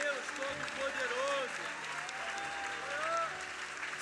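A church congregation applauds during a sermon, broad clapping spread under a sustained tonal voice or music that rises and falls over it.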